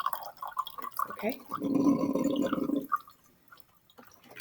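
Hot and cold water poured into a styrofoam cup with a small ice cube, a steady close splashing pour for about a second and a half, with a person speaking briefly before it.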